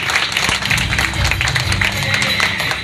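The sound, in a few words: applause for a guest at a Republic Day program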